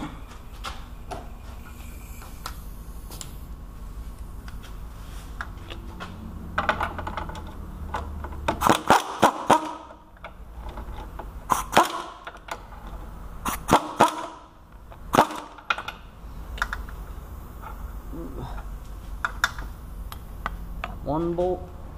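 A swivel socket and extension on a wrench loosening a starter bolt on a GM 3.8 engine, giving a run of sharp metallic clicks and ratcheting taps in bursts over low background noise, with no voices.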